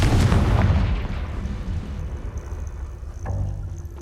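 A Confringo fire spell explodes in the video game Hogwarts Legacy. The blast is loud and booming, with a rumbling tail that slowly fades. A second, softer thud follows a few seconds later.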